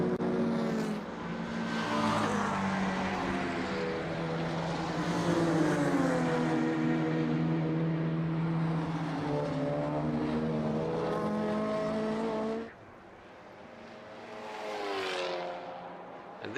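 Touring cars, a number 88 Honda among them, race past on a Baltic Touring Car Championship circuit, engines droning loud and steady for about twelve seconds before dropping away, then another car swelling in near the end.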